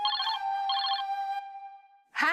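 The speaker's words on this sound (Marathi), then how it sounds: "त्यांचा फोन येतोय बघ." A telephone rings indoors with a bright electronic trill in two quick bursts, followed by a held tone that fades, and a voice then cuts in at the end.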